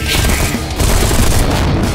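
A mech exploding in the sci-fi game Stars End: a loud, continuous crackling roar of blasts and booms filling the whole moment, dense and close with no pause.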